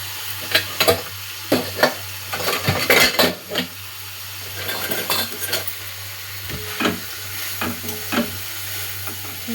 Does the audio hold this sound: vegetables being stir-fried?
yes